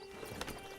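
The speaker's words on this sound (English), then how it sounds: "Get on the horse there" A horse's hooves clip-clopping in Red Dead Redemption 2, a quick faint clatter of a couple of steps over steady ambient game noise with a faint background hum.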